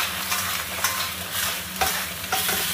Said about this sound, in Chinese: 稍微炒一会儿